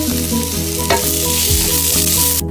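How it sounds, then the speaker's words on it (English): Cabbage stir-fries in a hot pan with a loud, continuous close sizzle, a low steady tonal hum running underneath and a brief clatter near the end. "I added the cabbage. Okay. And stir fry."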